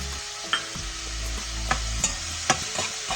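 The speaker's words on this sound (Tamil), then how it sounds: "வெங்காயம் கருவேப்பிலை இஞ்சி பச்சை மிளகாய் எல்லாத்தையும் ஒன்றா போடுறேன்" Onion, curry leaves, ginger and green chili fry in a pan with a steady close sizzle, broken by a few sharp spatula scrapes and knocks against the pan.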